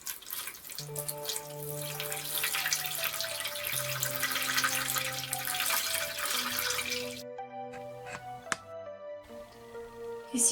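Water rushing steadily from a running shower, a broad hiss that cuts off abruptly near the end, with soft music tones playing underneath throughout.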